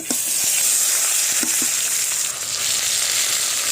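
Ghetkol (kharkol) leaves frying in oil with turmeric, salt and a dried red chilli, a loud, continuous close sizzle with a few light stirring taps early on; no voices.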